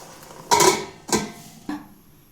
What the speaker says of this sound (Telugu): కట్ చేసి పెట్టుకున్న టమాటాలు కూడా వేసుకుంది మూత పెట్టేసుకుందాం